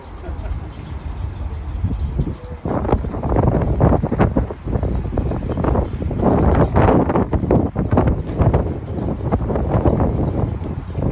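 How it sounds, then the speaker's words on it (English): Strong night wind buffets the microphone outdoors near a mall, producing loud, irregular low rumbling gusts that surge and ebb throughout. "It is super windy tonight"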